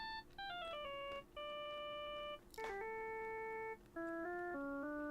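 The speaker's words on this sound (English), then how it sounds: "the phone began to ring" A phone ringtone from the Phoenix Wright: Ace Attorney – Justice For All video game plays a bright electronic melody of stepped beeping tones in repeated phrases, loud and alone with no talk.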